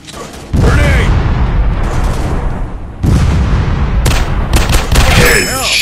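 Loud gunfire and grenade explosions from a robot shooting video game, with bursts of booming blasts and rapid shots, a brief lull, then renewed firing.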